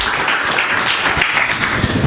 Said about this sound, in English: Please give applause to Dr. Ioannis Theotokas